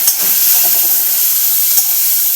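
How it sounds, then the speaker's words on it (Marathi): Onion added to well-heated oil, a loud, steady close hiss of sizzling that holds evenly throughout. "तर आता पहिला कांदा टाकतोय तेल मस्तपैकी तापलं आहे आणि मग कांदा टाकून घेतलेला आहे"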